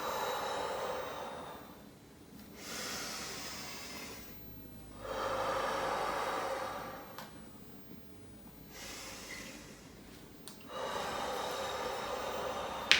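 Deep, slow pilates breaths with long airy inhales and forceful exhales, alternating in a steady rhythm of roughly two-second phases, close and fairly quiet with no talking over them.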